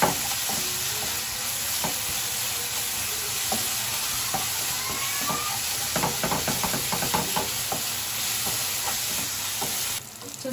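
Tomato masala with coriander powder and mint frying in a pan, a steady close sizzle and hiss with intermittent clinks and scrapes of stirring, no voices.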